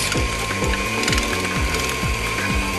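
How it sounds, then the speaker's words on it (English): Strips of meat feed through a grinder for cured and smoked sausage, giving a loud, continuous mechanical grinding with a steady ratcheting rhythm of repeated clicks close up, with no talk. "and you're grinding it up"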